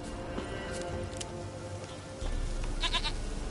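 A goat in The Witcher 3 gives a few bleats against a low ambient rumble, with a louder, fuller stretch near the end.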